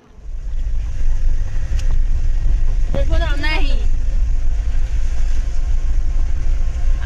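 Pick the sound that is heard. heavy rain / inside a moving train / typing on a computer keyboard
inside a moving train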